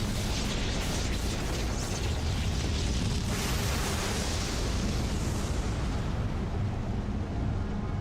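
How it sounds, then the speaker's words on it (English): A sustained, roaring explosion from the video game Final Fantasy XIV, with a dense broadband blast rumble that stays loud and steady for several seconds. "sounds like an explosion"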